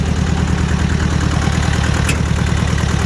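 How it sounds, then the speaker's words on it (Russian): A two-cylinder Hinomoto 184 Japanese mini tractor engine chugs loudly and steadily up close as it revs, its rough low-pitched putter pulsing evenly throughout. "Трактор с удовольствием набирает обороты."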